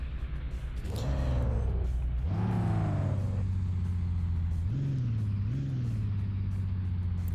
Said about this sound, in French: Donc là je vais faire un dérapage pour utiliser mon arme sur la voiture en face.